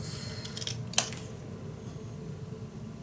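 Scissors cut out a paper shape for a Mother Goose scrapbook mini album, a few short crisp snips close by with one sharper cut standing out against a quiet room.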